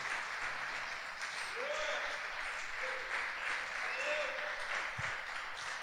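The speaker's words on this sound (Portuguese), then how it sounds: "Você pode aplaudir Ele por isso?" Church congregation applauding during a Portuguese-language sermon, a soft, even wash of clapping that carries on throughout at low level, with faint tonal sounds drifting in the background.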